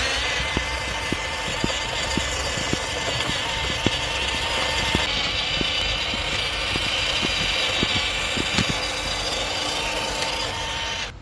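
A WPL C64-1 RC crawler truck's electric motor drives steadily with a continuous whine and faint rhythmic ticking from the drivetrain, close by and alone, ending abruptly.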